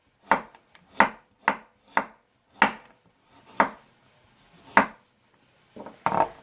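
A knife chops carrots into small pieces on a cutting board, about nine crisp, evenly spaced thuds close by with brief gaps between them.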